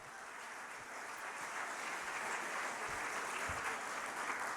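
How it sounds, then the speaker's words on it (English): A crowd at a Long Island healthcare activists' rally applauds steadily, a dense, sustained clapping that holds at an even level throughout, with no talk over it. "Give them a big round of applause."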